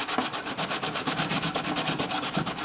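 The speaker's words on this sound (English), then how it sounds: "after it's dried, it's ready to be sanded smooth on both sides" Rapid back-and-forth sanding over dried Bondo filler on a vintage metal toolbox, a close, steady scratchy rubbing with even strokes repeating about ten times per second.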